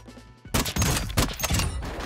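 Sniper rifle fire in the Warzone video game: after a quiet half second, a loud burst of gunfire erupts with several sharp, close shots and rattling reports over about a second and a half.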